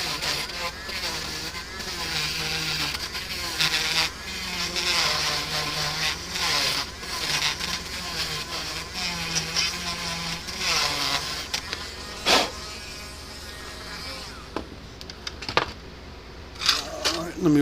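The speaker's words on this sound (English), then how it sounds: "need my little Dremel brush thing. And we'll clean all the crud out of there." A Dremel brush scrubbing crud out of a Gallagher M1000 electric fence charger, giving a steady whirring, rasping buzz that runs for most of the stretch before stopping, followed by a few clinks.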